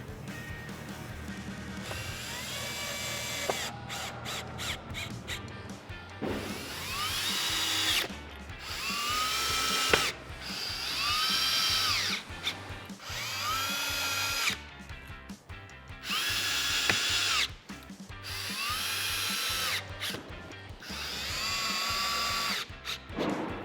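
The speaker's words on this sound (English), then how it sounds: "go ahead and get all your screws reassembled" A power drill drives screws into a Jeep Wrangler JK two-door soft top frame, whirring in repeated bursts of several seconds, each rising in pitch and separated by short pauses.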